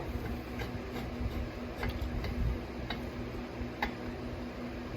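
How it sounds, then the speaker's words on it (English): Ratchet fitted with an Allen head bit, used on a bench project, gives a series of faint, irregular ticking clicks spaced over a few seconds against steady background hum, with no talking. "It's just an Allen head that goes on a ratchet."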